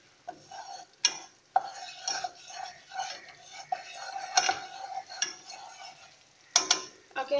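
A spoon scrapes and clinks against a pan while chicken Alfredo sauce sizzles softly underneath, with sharp metallic taps at irregular intervals.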